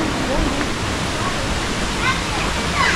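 Waterfalls and river at Miguel Hidalgo Zacalapa, a loud, constant rushing roar of falling and flowing water close by, with faint voices in the background.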